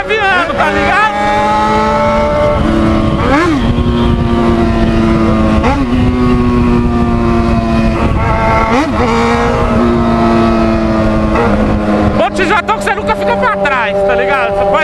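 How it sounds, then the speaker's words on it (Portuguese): Two Yamaha XJ6 motorcycles rev hard at night, their engines rising and falling in repeated loud, close sweeps that fill the whole stretch without a break. "essas motos tá fazendo muito barulho"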